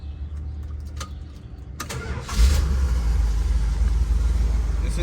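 A 1978 Plymouth Trailduster Sport's gasoline engine cranks briefly, catches and settles into a smooth, steady idle, close and loud, after a quieter stretch with some faint background sounds.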